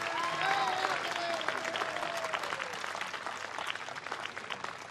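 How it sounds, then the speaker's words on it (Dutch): Warm round of clapping from an audience, loud at first then gradually thinning, with a voice briefly heard over the start. "Een hartelijk applaus"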